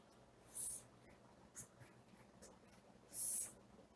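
A pen scratches across paper while a network diagram is drawn for an electronics lesson, faint close strokes in two longer bursts with a short mark between, and no talk.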